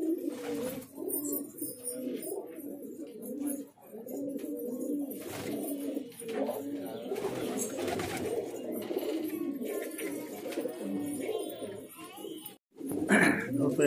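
Several female pigeons coo in low, throaty, overlapping calls almost without pause, close by, with a voice speaking over them now and then.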